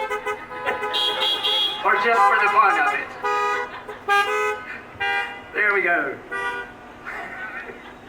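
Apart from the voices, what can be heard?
car horns honking at drive-in graduation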